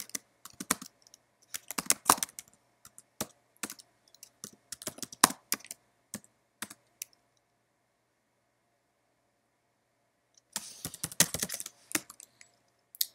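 Clicky computer keyboard typing, bursts of rapid keystrokes from about 0 to 7 seconds, then a pause of near silence, then another dense burst of typing toward the end; close and fairly quiet, with no voices.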